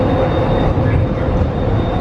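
Rubber-tired airport people mover train rolling along its guideway, a steady loud rumble with a faint high whine, continuous and near.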